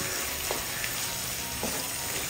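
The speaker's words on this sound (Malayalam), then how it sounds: "അപ്പോൾ ഇതെല്ലാം ഒന്ന് ഇളക്കി യോജിപ്പിച്ചെടുത്തിട്ടുണ്ട്. ഒരു 30 സെക്കൻഡ് ഒന്ന് ഇളക്കി കൊടുക്കാം." Shallots and spices fry in a pan with a steady, close sizzle, broken by a couple of soft stirring scrapes.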